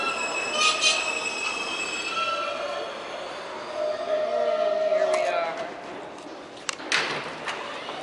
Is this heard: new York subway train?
yes